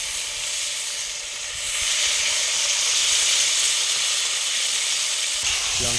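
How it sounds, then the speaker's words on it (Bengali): Potatoes fry in hot oil in a pan at a riverside picnic in the Sundarbans, giving a loud, steady sizzle and hiss that holds throughout and swells slightly partway through. "আলুগুলো কি ভেজে নেওয়া হবে? আলুগুলো কষিয়ে নেওয়া হবে,"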